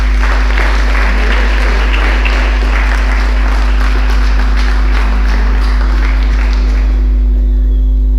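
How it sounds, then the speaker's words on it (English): Audience applause following a lecture at St. George's Cathedral, loud sustained clapping from a crowd over a strong low hum, tapering off near the end. "So please, a round of applause."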